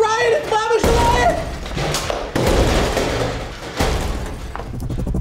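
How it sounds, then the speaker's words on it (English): Gunshots ring out during a staged riot scene at a convention performance: several sharp, loud broadband blasts at irregular intervals over a noisy background, with a brief shouted voice at the start. "Oh, gunshots!"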